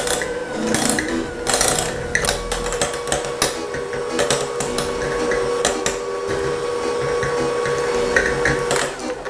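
An electric mixer creams ingredients at medium speed for Halloween baking, a steady mechanical whir broken by frequent clattering knocks of the beaters against the bowl, fairly close and loud with no talking.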